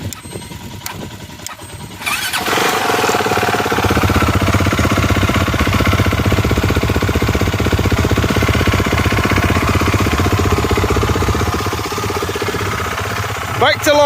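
A CCM GP450 motorcycle engine catches after a jump start and runs steadily close by, a loud continuous rumble with rapid knocking pulses that sets in a couple of seconds after a brief, quieter stretch.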